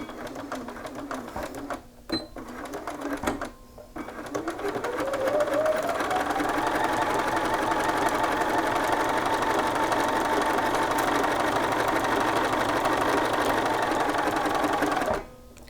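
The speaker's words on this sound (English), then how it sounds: "now we're going to sew across the shoulder yoke seam" A sewing machine runs steadily for about ten seconds, stitching across the shoulder yoke seam of a shirt at a half-inch seam line, after a few brief starts and pauses and a short stop at the end.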